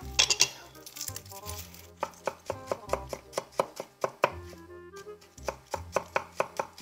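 Knife chopping garlic on a cutting board for chicken parmesan, a quick flurry of close, sharp taps at first, then steady evenly spaced chops with brief pauses, loud and alone without talk.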